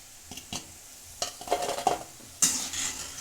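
Moong dal and wheat flour snacks fry in oil over medium heat, a gentle sizzle with a few scattered ladle taps and stirring scrapes, ending in a brighter burst of bubbling.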